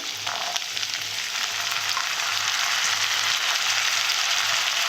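Ginger and green peas frying in a pan for a Bengali fish curry, a loud, steady close-up sizzle with a faint rhythmic scraping under it and no voices.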